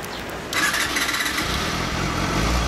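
A Honda Hornet motorcycle fitted with a Yoshimura exhaust starts up close by, a short crank followed by the engine catching and settling into a steady idle.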